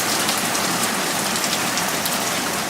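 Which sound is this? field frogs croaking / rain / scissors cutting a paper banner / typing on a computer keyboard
rain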